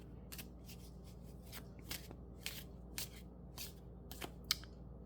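Tarot cards are drawn and shuffled, a quiet run of sharp papery flicks and slides about once a second against near silence, with no voice.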